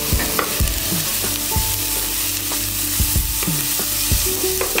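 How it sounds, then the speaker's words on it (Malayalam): Chopped onions hit hot oil in a pan, giving a bright steady sizzle with repeated scraping and clinking stirs of a utensil against the pan, close and loud, no talking. "ഏകദേശം എണ്ണ ചൂടായി വരുമ്പോൾ നമുക്ക് ഇതിലോട്ട് സവോള ആഡ് ചെയ്ത് കൊടുക്കാം"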